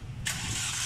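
A Ford Fiesta with a cracked exhaust manifold fires up at a racing circuit, a short engine start leading into a loud, raspy running roar.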